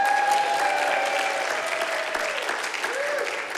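Steady audience applause fills a hall as a guest walks up onto the stage at a prize wheel event, a dense wash of clapping that holds at an even level throughout.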